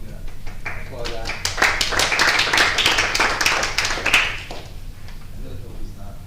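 Scattered clapping at a council business meeting, a handful of people applauding in a brief uneven burst of taps under ongoing chatter and speech in the room.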